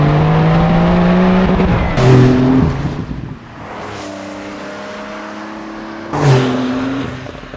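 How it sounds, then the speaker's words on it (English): Active sports exhaust on a Porsche 911 Carrera GTS (992) revving loudly with rising and falling engine tones, sharp pops and burbles around two and six seconds, no voices. "You also get these active sports exhaust, which give you that sort of burbles and adds a bit more character to the car."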